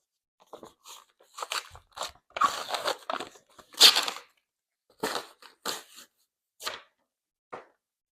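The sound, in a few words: peeling the cover off a paperback book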